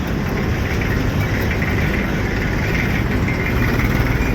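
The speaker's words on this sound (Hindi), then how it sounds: "महिंद्रा आ गया 265।" A Mahindra 265 tractor engine runs at a loud, steady drone with a dense low rumble, heard alone without any talk.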